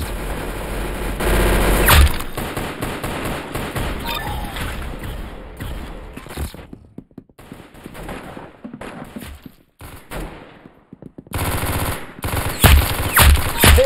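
Rapid automatic gunfire from the video game Arsenal, loud and sustained in dense bursts, thinning out midway before heavy firing resumes near the end.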